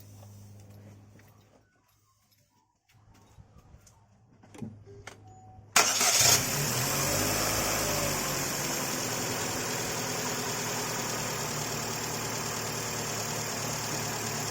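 A Chevrolet Cruze with the Z18XER engine, just refitted with a new rocker cover, cranks and catches after a few quiet seconds of faint clicks, then runs at a steady, loud idle close by with no talking.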